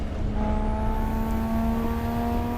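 In an Assetto Corsa run of the Pikes Peak Hill Climb, a twin-turbocharged all-wheel-drive car's engine accelerates with a loud, steady, rising whine under a rough rumble.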